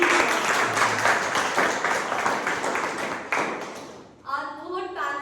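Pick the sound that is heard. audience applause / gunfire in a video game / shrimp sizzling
audience applause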